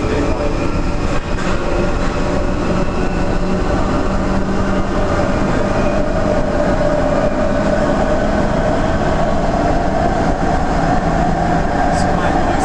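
A London Underground Jubilee line train runs noisily through a concrete-based tunnel, a loud continuous roar and rumble with a rising whine, steady throughout with a brief high squeal near the end.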